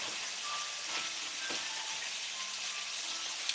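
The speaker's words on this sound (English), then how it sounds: "The sizzle is going away." Pork frying in a hot Lodge cast iron wok, a steady bright sizzle with faint pops and crackles throughout, loud and close.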